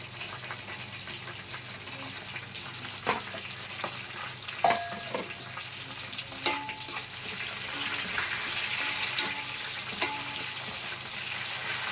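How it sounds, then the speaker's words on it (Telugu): Onions and green chillies frying in a pan for chicken biryani, a continuous close sizzle with scattered utensil clinks and scrapes, no voices. "ఇదిగోండి ఉల్లిపాయలు ఇలా వేగిన తర్వాత పచ్చిమిర్చి వేసేసుకున్నాం."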